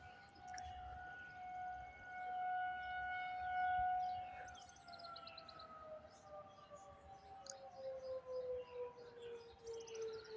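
Outdoor tornado warning sirens wail in long, sustained rising and falling tones, sounding for high winds, carrying from a distance over low background rumble.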